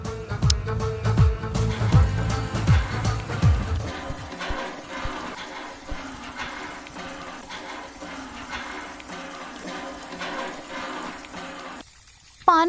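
Water fills a clay pot and overflows, a bubbling, splashing pour that is louder at first and then thins to a lighter trickle, with a short gap and a clatter at the end.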